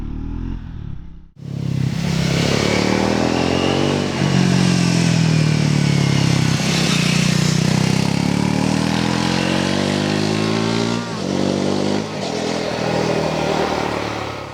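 Triumph Scrambler 400X motorcycle engine droning steadily while riding on UK roads, loud and close, its pitch rising and falling through throttle changes and gear shifts after a brief quiet start.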